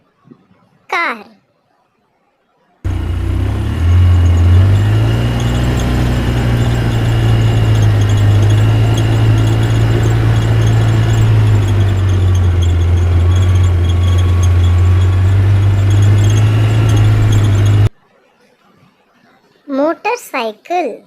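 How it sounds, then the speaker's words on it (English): A car engine runs steadily for about fifteen seconds, a loud continuous drone with a low hum that rises and falls slightly, framed by brief child speech before and after. "car."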